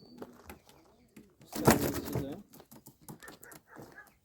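Pigeons coo in a loft, soft and close, with a burst of louder rustling or wing flapping in the middle and short coos around it, while a person talks quietly nearby.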